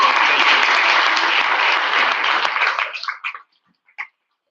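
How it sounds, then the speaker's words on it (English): A crowd at a public speaking competition applauds a speaker, a full, even burst of clapping that thins out after about three seconds into a few scattered last claps before silence. "So everybody give a big round of applause for Kayla."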